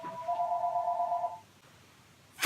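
A phone rings with a steady electronic tone held for about a second and a half, clear and close, then silence before a sharp noise at the end.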